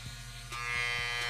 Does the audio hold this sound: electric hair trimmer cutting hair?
yes